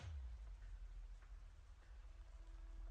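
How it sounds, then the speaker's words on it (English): Rain falls in the video game Arknights as a faint, steady hiss with soft low rumbling underneath and no voices. "It's raining."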